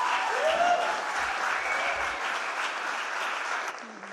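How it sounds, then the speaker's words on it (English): Church congregation at an Easter Sunday service gives a round of applause, sustained clapping from many people that fills the room and tapers slightly toward the end, with a faint voice underneath. "Can we just give everybody a round of applause who's been involved this Sunday?"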